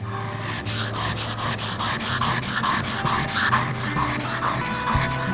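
A leatherworking gouge is rubbed back and forth in steady, rhythmic strokes on a wet 1000-grit sharpening stone, giving a close, continuous gritty scraping that keeps going without a break and without any talk over it.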